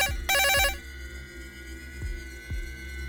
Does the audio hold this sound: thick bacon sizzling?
no